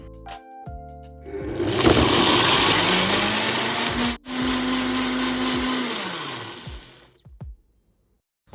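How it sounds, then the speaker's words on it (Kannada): A kitchen mixer grinder blends tamarind, tomato, coriander leaves and water for rasam, whirring loudly and steadily for about six seconds with a brief stutter midway before winding down. "ಸ್ವಲ್ಪ ನೀರನ್ನು ಹಾಕ್ಕೊಂಡು ಇದನ್ನು ಗ್ರೈಂಡ್ ಮಾಡಿ ಇಟ್ಕೋತಾ ಇದ್ದೀನಿ"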